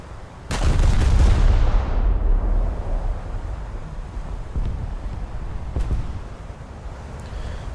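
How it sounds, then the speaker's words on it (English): In a naval video game, the guns of HMS Queen Mary fire at the Scharnhorst with one loud, booming blast that rolls away into a long rumbling decay over wind noise, followed by fainter distant thuds. "I'm tempted to actually just return fire against the Scharnhorst."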